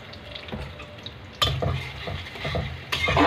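Onions and garlic frying in oil in a pan while being stirred, a steady sizzle with scraping stir strokes that swell louder partway through, close and alone, for a stir-fry of water spinach with shrimp.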